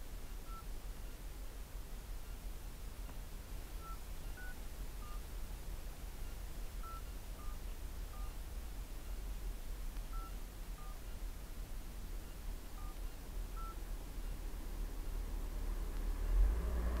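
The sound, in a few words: telephone dialing tones while calling internal security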